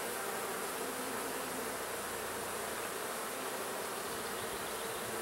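Honey bees buzz loudly and continuously in an open hive during an inspection, a dense, steady drone with no voices.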